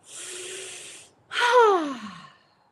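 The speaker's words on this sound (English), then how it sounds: "take a deep breath in through the nose and out through the mouth" A deep breath is drawn in through the nose and let out through the mouth, a soft airy inhale followed by a louder, sighing exhale that trails off, close and alone.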